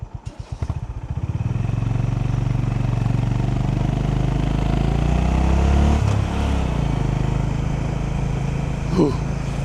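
Motorcycle with a heel shifter ridden through Kagoshima, Japan: the engine starts with a few sputtering pulses, then holds a steady close drone with slight revving and wind, a brief clatter near the end.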